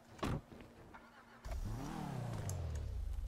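A car engine in a GTA RP game cranks briefly, then catches and revs up, rising in pitch and settling into a loud steady idle roar, after a short sharp sound at the start.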